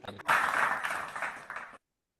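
Brief burst of clapping coming through an online video call, a compressed, slightly muffled patter lasting under two seconds before cutting off to silence.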